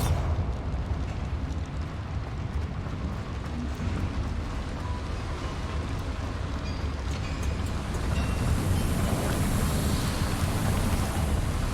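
Bombarda spell explosions in Hogwarts Legacy: a dense, roaring rumble of blasts and debris, loud and continuous, swelling further toward the end without any voices.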